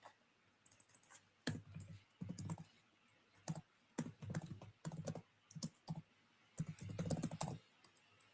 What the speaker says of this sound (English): My typing is bad right now,